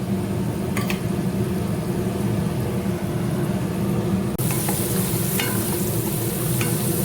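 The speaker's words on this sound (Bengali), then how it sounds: "পেঁয়াজটা প্রায় ভাজা ভাজা হয়ে গিয়েছে" Onions frying in a pan, a steady close sizzle with stirring scrapes running throughout, alone without voices.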